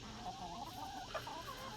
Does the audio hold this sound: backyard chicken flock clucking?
yes